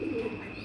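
A pigeon at a Bangladeshi pigeon farm gives a soft, brief coo, faint and close, over a low steady background hum.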